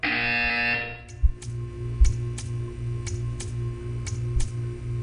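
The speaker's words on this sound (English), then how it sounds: "When you hear the buzzer, stare at the art." A sustained electronic buzzer in Portal 2 sounds for about a second, then cuts off, leaving a steady hum with periodic clicking ticks.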